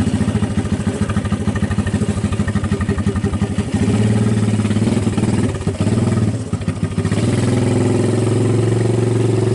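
Honda ATC200 three-wheeler with rat rod styling, riding in first gear through snow: a loud, close single-cylinder engine chugging steadily with a rapid rhythmic putter, briefly dipping and rising as the throttle changes.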